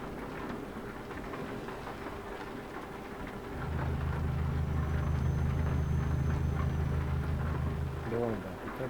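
Steady rain and a low rolling thunder rumble fill a truck cab in Euro Truck Simulator, with the rumble swelling midway and holding, while people talk over it.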